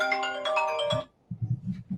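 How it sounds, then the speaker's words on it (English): A mobile phone ringtone plays a bright, melodic tone for about a second during an interview, then cuts off as low, muffled sounds follow. "There's a phone going off."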